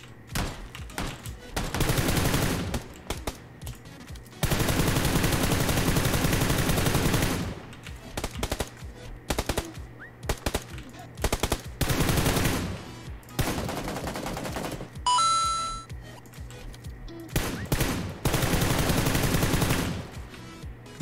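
Gunfire in PUBG Lite: repeated bursts of automatic rifle fire, loud and close, separated by brief pauses, with single shots and a short metallic ring between bursts.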